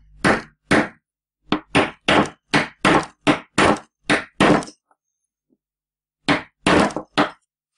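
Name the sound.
hammering a bearing into a pulley using a large socket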